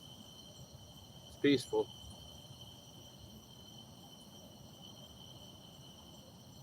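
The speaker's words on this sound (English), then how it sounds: "And just hearing all the crickets and stuff, frogs." Crickets chirp at night beside a river during catfish and carp fishing, a constant high, thin trilling in the background, broken briefly by a short spoken remark near the start.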